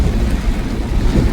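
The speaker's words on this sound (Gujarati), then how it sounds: "ચાલુ વરસાદ છે, જોરદાર વરસાદ પડેલો છે" Heavy rain pours down during a car journey toward Dwarka, a dense, loud, continuous wash of noise with a low rumble underneath, no voices.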